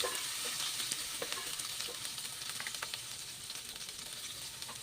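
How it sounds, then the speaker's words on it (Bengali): Cinnamon, cardamom, bay leaves and onions frying in a pan of oil for pilaf, a steady close sizzle with faint crackles and light stirring scrapes, no talk. "আমি দারচিনি, এলাচ আর তেজপাতা দিয়ে ভাজি করে নিলাম।"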